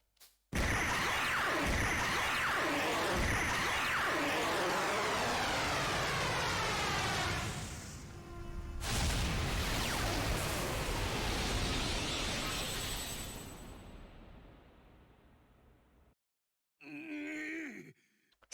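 A soul cannon fires in the video game Fuga: Melodies of Steel, a loud sustained roaring blast with a swelling whoosh that thunders on for several seconds, cuts off, then a brief rumbling burst follows.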